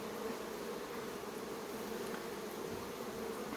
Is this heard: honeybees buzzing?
yes